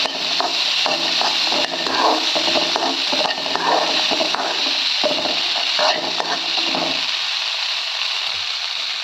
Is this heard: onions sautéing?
yes